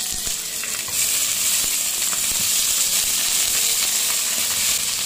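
Small crucian carp hit a thin layer of hot oil in a wok, setting off a loud, steady sizzling hiss that swells as the fish go in and holds without a break, with no talking.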